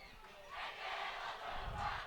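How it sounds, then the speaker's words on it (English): A high school football crowd at Prairie Grove vs Farmington chants a rhythmic cheer, the massed voices swelling and falling from a distance in the stands, fairly faint. "I've heard this cheer. It's the Icky Labicki Wiki cheer."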